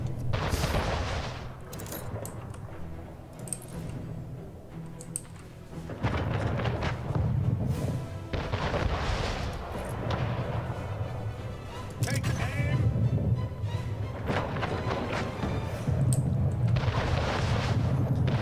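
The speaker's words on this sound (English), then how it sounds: "Cannon towers getting destroyed." Cannon towers being destroyed in Anno 1800, a strategy video game, heavy booming explosions and rumbling blasts in repeated bursts, loud and dense, with spoken voices heard amid the battle noise.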